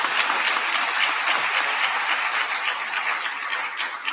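Audience applause for elected officials rings through a university presidential investiture ceremony, a dense, even roar of many hands clapping that holds steady and loud throughout.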